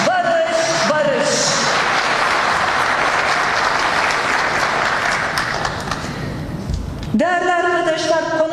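Dense applause with high warbling ululation from a crowd at a Turkish political rally, sustained for most of the stretch before voices and trilling calls return loudly near the end.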